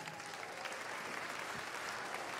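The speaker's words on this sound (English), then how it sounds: "Let's have a round of applause for them." Audience applause at a Brentwood School House Music competition, a dense, steady clapping that fills the whole stretch with no voices over it.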